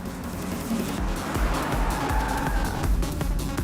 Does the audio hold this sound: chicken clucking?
no